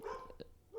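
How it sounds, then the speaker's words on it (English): A dog barks once or twice in a short, fairly faint burst against room background, with no talk over it. "why is this dog barking"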